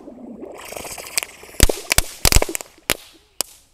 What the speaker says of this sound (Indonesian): Selanjutnya ini ada mercon teratai. Coba kita nyalakan ya, apakah nanti bisa menyala di air.